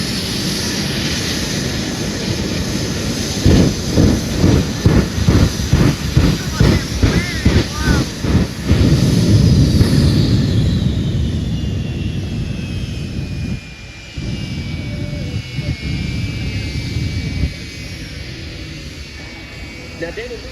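A jet-powered fire truck roars loudly at an air show, a sustained heavy engine blast with a rhythmic pulsing pattern and a falling whine, under wind and crowd noise.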